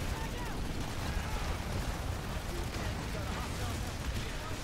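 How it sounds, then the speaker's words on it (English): Dense gunfire and explosions from a PlanetSide 2 battle, a constant rumbling barrage of shots and blasts with no clear gaps. "Many explosions."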